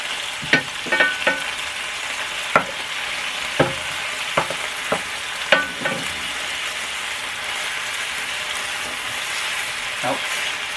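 Ground beef for tacos sizzles steadily in a Presto electric skillet, a close, continuous frying hiss broken by sharp grease pops and a few scattered spatula clicks.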